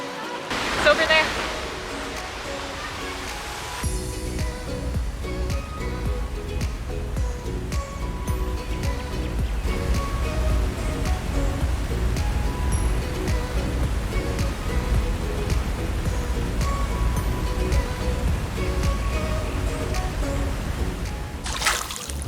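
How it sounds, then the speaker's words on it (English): A noisy waterfall by the Mississippi River rushes in a steady, loud broadband roar throughout, with a brief voice near the start and a few small handling sounds over the continuous falling water. "We were gonna eat down by the waterfall, but it's so noisy."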